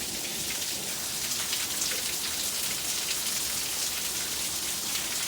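A sustained heavy downpour in San Diego, steady and close, with a thick unbroken patter of rain on surfaces and no speech or other sounds breaking through.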